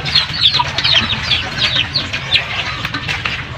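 Turkeys clucking at feeding time, with repeated short high calls and clucks from the birds at close range, over a steady low rumble and other farmyard noise.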